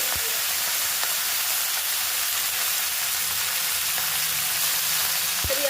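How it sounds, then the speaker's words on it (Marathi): Green chillies frying in hot oil for a methi bhaji, made without onion or garlic, give off a steady, close sizzle that runs unbroken throughout, with a few faint clinks. "त्याच्यानंतर मिरची व्यवस्थित तळतळली गेली की लगेच मी भाजी टाकणार।"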